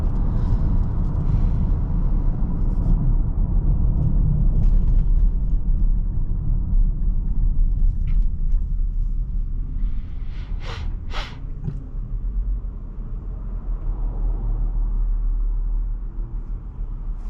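A 2023 VW Atlas SE V6 engine revs and pulls under acceleration while driving, a loud, steady low rumble that swells and eases, heard from inside the cabin with no talking.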